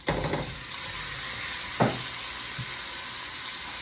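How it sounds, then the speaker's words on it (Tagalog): Potatoes go into a hot pan for chicken curry, raising a steady loud sizzle with a sharp crackling burst as pieces land, then continuous frying hiss. "mag-add tayo ng patatas"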